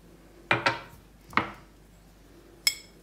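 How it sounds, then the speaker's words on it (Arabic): Sugar being mixed with cornstarch in a bowl, heard as four sharp clinks of a utensil against the bowl, two close together and then two spaced apart, in a quiet room. "غادي نحاول نخلط السكر مع دقيق ديال الذره"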